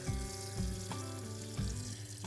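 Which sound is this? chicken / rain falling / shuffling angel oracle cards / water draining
water draining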